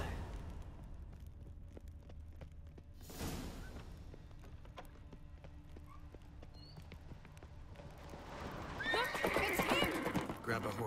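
A horse whinnies and gallops in The Witcher 3: Wild Hunt during a chase on Skellige, with steady hoofbeats under game music and dialogue and a louder, brighter burst of neighing near the end.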